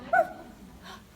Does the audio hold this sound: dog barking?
yes